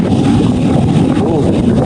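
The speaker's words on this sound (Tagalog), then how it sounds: "Malakas ang hangin talaga." Loud, constant roar of strong seaside wind buffeting the microphone on the Camarines Norte coast, a dense low rumble with no pauses.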